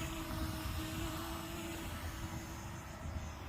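A DJI Mini 2 drone's steady mechanical buzz drones overhead with a faint whine, continuous and moderately distant, no voices.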